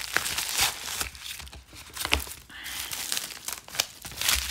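A crinkly plastic packet is rummaged through during an unboxing, with irregular bursts of crackling and crinkling close by, rising and falling in loudness and never settling into a rhythm.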